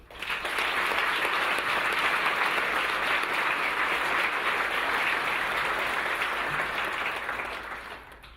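A State of the City audience breaks into steady, dense applause that holds at full strength for several seconds before tapering off at the end.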